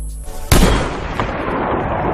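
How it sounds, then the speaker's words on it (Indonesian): A single loud gunshot from the Korean film The Deal (2015), a sharp close blast followed by a long ringing decay, with a low rumble before it. "Tae-soo menembak kepalanya dari belakang."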